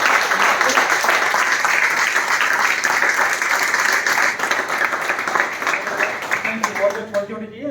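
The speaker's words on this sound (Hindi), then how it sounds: "क्या बात है, जोरदार ताली, जोरदार।" Loud, dense applause from a large audience at a motivational business seminar rolls on for several seconds, then thins into scattered claps as a voice begins speaking over it.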